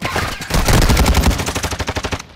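Rapid automatic gunfire in Call of Duty Warzone on Ashika Island, a dense burst of close, loud shots that thins into distinct evenly spaced bangs toward the end, with no voices over it.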